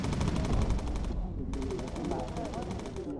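Rapid machine-gun fire with incendiary rounds in the bomber-crew video game Bomber Crew: a loud, sustained rattle of shots that briefly stops and then resumes just as dense.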